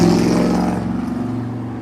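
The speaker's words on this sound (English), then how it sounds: "That's that 64 Chevrolet." A 1964 Chevrolet's motor runs steadily nearby, a low rumbling idle with a faint pulsing throb that holds for the whole stretch, slightly fading toward the end, with no talk over it.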